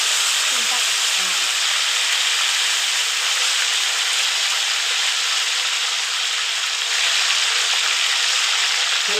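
Fish pieces frying in hot oil in a home kitchen, a steady loud hiss and sizzle running unbroken from start to finish, with a few faint voices briefly heard near the beginning.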